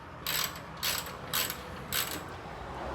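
A lightweight Koken ratchet clicks in four quick bursts while turning a bolt, crisp close metallic ratcheting with short pauses between strokes and no talking.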